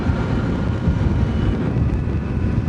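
Steady roaring wind buffeting around the windscreen of a 2016 Kawasaki Versys 1000 while riding, loud and continuous throughout with no talk.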